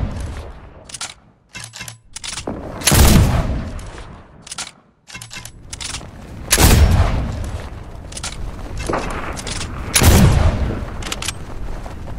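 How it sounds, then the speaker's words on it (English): Gunfire in the Fortnite video game: repeated bursts of shots with three heavy, loud volleys around three, seven and ten seconds, separated by quieter crackling pops and brief gaps. "Why are you shooting?"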